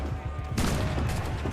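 A swivel gun fires aboard a ship in Assassin's Creed IV Black Flag, an abrupt loud crack followed by a rolling burst of noise over low ambient rumble.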